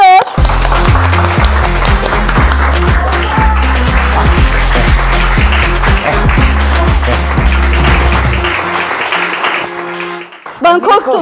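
A talk show studio audience claps to welcome a guest, dense loud applause running for about ten seconds with a steady beat underneath, then fading out at the end.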